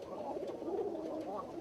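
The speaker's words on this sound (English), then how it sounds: "Can't help but like the noise they make if you like pigeons." Pigeons cooing inside a loft, a soft low continuous murmur of overlapping coos at close range with no other sounds over it.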